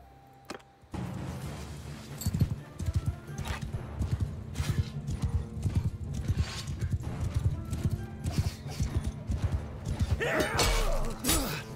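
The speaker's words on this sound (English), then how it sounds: "I want to see how fast this new horse is." Horse hooves gallop in a steady rapid clip-clop in the Mount & Blade II Bannerlord video game, loud and continuous across the stretch, with a whinny-like cry near the end and faint background clatter.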